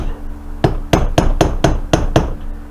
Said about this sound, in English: I'm just going to go ahead and I'm going to beat this thing all the way off like that